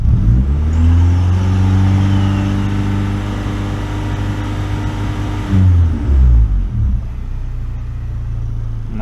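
A car engine idles loudly and close by, then is revved, its pitch climbing and falling back in a couple of blips while an RPM shift mod is tested.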